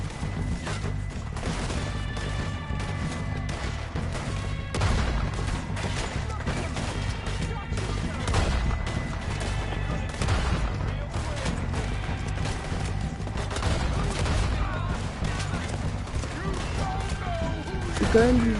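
Gunfire in Red Dead Redemption 2, with repeated sharp shots and crashes scattered over steady game noise and music, fairly loud throughout, while a voice talks over it.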